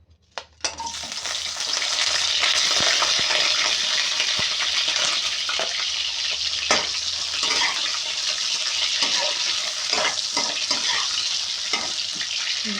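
Onion sautéing in hot cooking oil in a frying pan: a steady, loud crackling sizzle that flares up right after the onion drops in and keeps going with small pops and stirring scrapes, with no talk.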